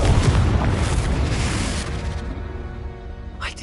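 A deep, booming fiery blast from the Confringo spell in Harry Potter Legacy erupts loudly at once, then rumbles and decays over a few seconds, with a small crack near the end.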